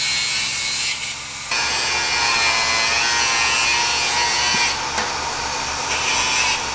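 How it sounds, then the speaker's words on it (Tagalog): A screw's excess length being sawn off while building an underbone race bike: steady, loud back-and-forth cutting strokes that run continuously close to the mic, with a short pause near the start. "Medyo mahaba lang yung tornilyo natin, may excess. Pumutuli pa ni JR yan"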